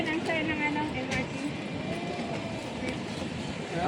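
An MRT train rumbles and clatters past at moderate distance in Singapore, a continuous rolling roar with some faint voices mixed in.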